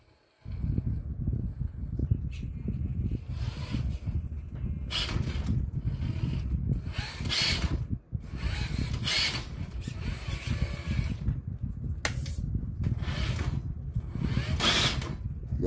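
A TRX4 High Trail Edition RC truck fitted with a Hobbywing 1080 ESC, its motor revving and wheels spinning in repeated bursts, loud and close with a whining mechanical drone throughout.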